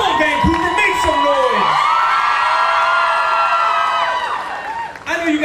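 Lively crowd at a downtown Vancouver bhangra event cheering, whooping and shouting with applause underneath, loud and sustained throughout, with some voices yelling over the din.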